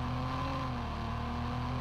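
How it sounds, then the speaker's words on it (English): A fast car's engine revs in a racing video game, a steady loud drone that holds without a break for a moment. "Ooh, this sounds like it might be a fast car."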